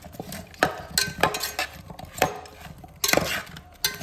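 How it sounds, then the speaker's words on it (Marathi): A spoon stirring a mixture in a pot, clinking against the sides in irregular knocks and scrapes, about a dozen distinct taps spread across the moment. "आता मिक्स करून घेत आहे, चमच्याने मिक्स करून घेते."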